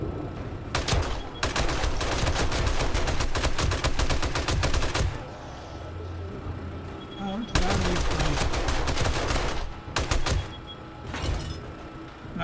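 M60 and SMG turrets fire during a Blood Moon horde in 7 Days to Die, with loud sustained bursts of rapid automatic gunfire broken by brief pauses, and some muffled impacts between bursts.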